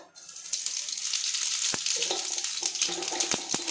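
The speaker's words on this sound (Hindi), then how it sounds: "जीरा क्रैकल होने लगा है।" Cumin seeds crackle and sizzle in about two tablespoons of hot oil in a pan, a steady frying hiss with scattered sharp pops close by, no voices.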